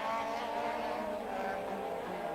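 Formula 1 race cars at the 1984 Portuguese Grand Prix, a steady high engine whine holding loud and close with no break, cars running together on track.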